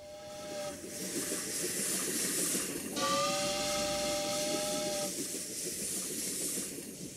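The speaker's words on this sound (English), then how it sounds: "Finally, the train pulled into the station." A steam train pulls into a station, its long hissing steam release running throughout with sustained whistle tones sounding twice, loud and close with no voices.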